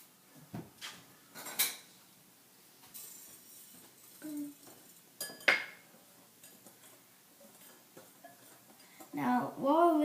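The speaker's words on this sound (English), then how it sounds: "Now we're going to whisk that all together." A whisk clinks against a bowl while pancake batter with sugar is mixed by hand at home, giving scattered metallic taps and scrapes in short irregular bursts, close by, with a voice talking at times.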